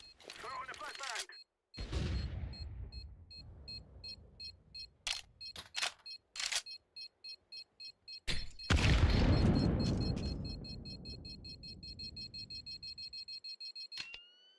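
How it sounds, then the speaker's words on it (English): Flashbang grenade thrown in a tactical shooter game: a sharp loud burst near the middle with a ringing, hissing tail, amid scattered clicks, short bleeps and brief game sounds, with a spoken voice early on. "Throwing the flashbang."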